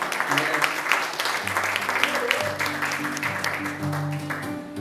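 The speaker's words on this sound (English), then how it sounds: "they give her a nice round of applause" Audience at a live music show applauding for a woman and her husband, a steady patter of clapping with a voice speaking over it and a low hum underneath.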